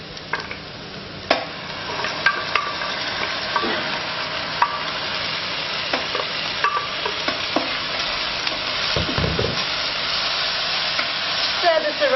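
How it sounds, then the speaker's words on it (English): Spice paste stirred and scraped with a paddle spoon in a frying pan over medium heat, a constant close sizzle with repeated sharp scraping ticks and a few louder knocks, no talk. "Just scrape away the spices that are sticking to the pan"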